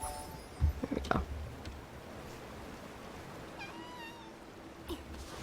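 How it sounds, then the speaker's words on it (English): A cat meows a few times in the video game Infinity Nikki, short and fairly faint calls over a soft wash of ambient game sound. "Sounds like there's a cat that's just like stuck somewhere."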